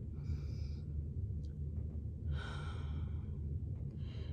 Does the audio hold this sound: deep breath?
yes